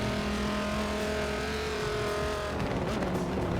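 A race car engine in Forza Motorsport 7 on the Bernese Alps circuit holds a steady high drone, then the pitch shifts and the revs change as the car lands, loud and continuous with no talk.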